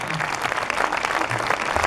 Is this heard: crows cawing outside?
no